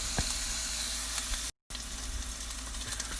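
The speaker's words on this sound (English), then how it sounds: "while we're waiting for the bacon to cook" Bacon sizzles and spits steadily in a pan at a campsite, a constant close crackling hiss with small pops, broken by a brief gap of silence midway.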